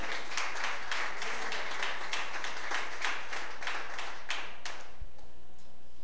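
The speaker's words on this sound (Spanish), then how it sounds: "Dale un aplauso al Señor porque Él vive y porque Él reina." Church congregation applauding during a sermon, steady rhythmic clapping from many hands that fills the space, then thins and fades out near the end.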